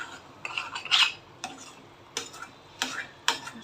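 Four eggs stir-fried for anda bhurji on a low flame in a steel pan, soft faint background sizzle broken by a series of irregular metallic scrapes and clinks from a spatula.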